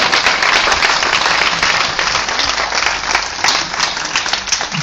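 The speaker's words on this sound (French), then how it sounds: "Acclamons pour la parole du Seigneur." A church congregation bursts into sustained applause, dense clapping at a steady, loud level for the whole stretch with no break.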